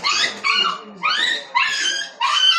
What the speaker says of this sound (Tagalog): naipit yung aso